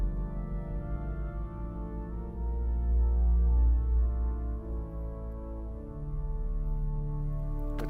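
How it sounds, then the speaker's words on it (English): A 1906 Felgemacher pipe organ plays soft sustained chords on its Dulciana celeste stop, a gentle, steady tone that swells slightly in the middle of the passage. "And then there's a Dulciana celeste, which makes it float again, like the bar celeste."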